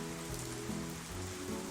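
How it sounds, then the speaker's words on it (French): Gentle rain falling steadily on a surface, a soft continuous patter with no talk, heard alone over a low tonal background. "Écouter la pluie tomber doucement."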